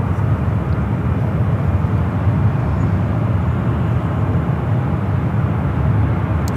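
Airliners at San Francisco airport, a loud, continuous broadband jet engine roar that holds steady throughout, filling the air without pause.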